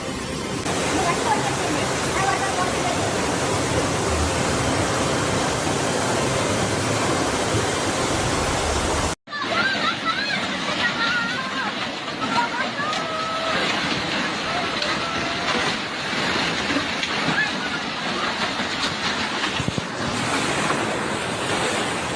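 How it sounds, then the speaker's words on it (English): Violent floodwaters surge through flooded neighborhoods in Rongjiang, Guizhou, China, a loud, continuous roaring rush of water with heavy wind buffeting, broken by a brief cut partway through before the torrent resumes. "Severe flooding struck Rongjiang in Guizhou, China, turning entire neighborhoods into violent currents of water."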